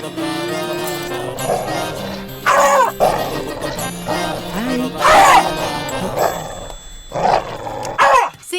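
A dog in a Telugu comedy scene lets out several loud, close barks in short bursts spaced a couple of seconds apart, with voices and background sound between them.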